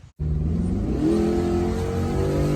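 An LS3-swapped 1995 Camaro Z28 V8 revs loudly up close, starting abruptly and holding a deep, steady roar with a rising note partway through.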